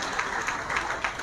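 Audience applause at a BSP intellectuals' conference in Kannauj, a steady wash of clapping from a crowd that goes on for the whole short moment and carries no speech over it.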